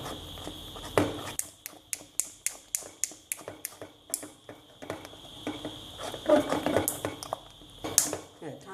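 A spoon scrapes and clinks against a pot while stirring thickening sugarcane jaggery, sharp regular taps in a quick rhythm, then slower irregular scrapes, close and fairly quiet, with a high steady hiss underneath.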